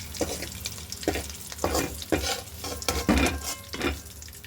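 Anchovies frying in a pan sizzle under regular, rhythmic scraping strokes of a spatula, about one stir every half second, fairly close and with no speech.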